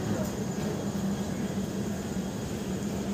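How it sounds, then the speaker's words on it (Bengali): The 13147 Uttarbanga Express from Sealdah to NJP rolls slowly along the line with a steady, unbroken rumble and hiss heard from inside the carriage, with no clear clacks or voices. "এখন ট্রেন আস্তে আস্তে গন্তব্যের দিকে এগোচ্ছে"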